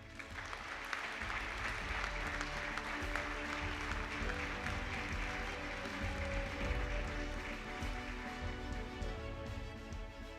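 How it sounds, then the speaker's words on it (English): Sustained applause from an audience honoring athletics Hall of Honor inductees at Brook Hill, a steady, full round of clapping lasting throughout, with a low murmur of crowd noise underneath. "Let's give all of our inductees in this category a big round of applause."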